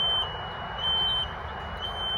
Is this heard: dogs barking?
no